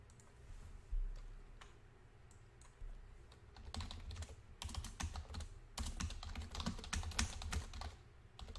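Quiet, rapid computer keyboard typing clatters in bursts, faint clicks picking up into a steady flurry of keystrokes.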